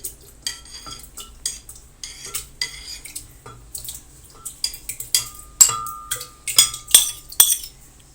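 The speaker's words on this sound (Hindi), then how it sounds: "सबसे पहले हम 2 कप दही डालेंगे इसमें" Two cups of yogurt being added to a bowl to make kadhi, heard as intermittent clinks and scrapes of a spoon against the bowl, with a short ringing clink midway; close up, no voices.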